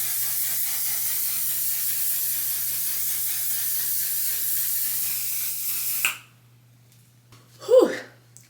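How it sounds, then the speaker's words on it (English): Setting spray misted onto a face: one long, close, loud continuous hiss for about six seconds that cuts off abruptly, then a brief breathy exhale. "Literally hairspray for your face."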